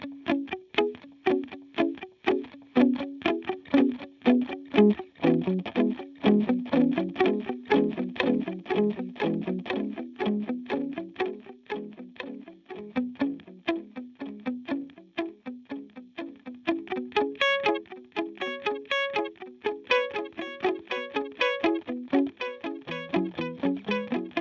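Electric guitar through a Line 6 Helix Euclidean delay, two rhythmic delay patterns panned hard left and right overlapping into a dense, steady pulse of repeating plucked notes, loud and continuous with no talking.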